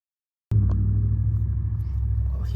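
Steady low road rumble from passing car traffic, continuous and fairly loud, starting abruptly after a half-second of silence, with no talking.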